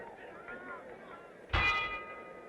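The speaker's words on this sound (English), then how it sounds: "There's the bell." A ring bell strikes at the close of round one in the welterweight title fight between Emile Griffith and Benny Kid Paret, a single bright ringing clang that sustains and fades over a murmuring arena crowd and commentary.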